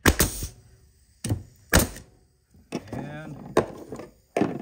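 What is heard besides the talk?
pneumatic nail gun firing a nail into a board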